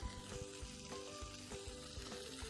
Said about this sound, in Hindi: अब हम अपना सॉस बना लेंगे पिज़्ज़ा सॉस इसे भी हल्का सा हमने सौते करने प्याज और उसे लहसुन को